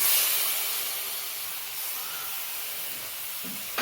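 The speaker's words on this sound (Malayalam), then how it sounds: "ഇനി ഇതിലേക്ക് നമുക്ക് തക്കാളി അരച്ചതും കൂടി ചേർത്ത് കൊടുക്കാം" Ground tomato paste hits hot masala in a pan for Kerala-style fish curry, giving a loud, steady hiss of sizzling that stays close and continuous, then flares briefly at the end.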